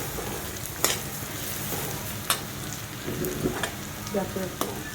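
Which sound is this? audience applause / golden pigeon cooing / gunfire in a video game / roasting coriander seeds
roasting coriander seeds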